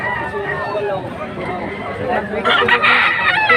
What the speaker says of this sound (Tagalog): Ayan, mga dalawang taon na daw itong uh, manok ni Mamay